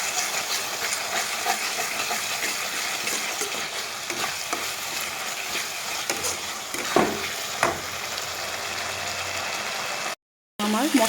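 Spice masala with beaten sour yogurt sizzles and is stirred in a pan for raw banana kofta curry, a loud continuous frying hiss with occasional scrapes of the spoon, cut by a brief silence near the end.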